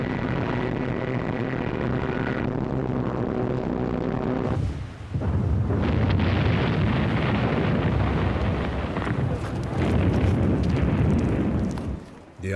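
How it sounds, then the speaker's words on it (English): Bombs exploding during a Luftwaffe air raid on Malta in early 1941, with a continuous heavy rumble of blasts and roaring booms filling the whole stretch, loud and dense with a sharp burst midway. "In early 1941, the Luftwaffe bombed Malta."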